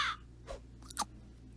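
A Super Auto Pets crow gives a short cawing burst, followed by a couple of quick clicky game sounds, fairly close and clear against a faint background hum.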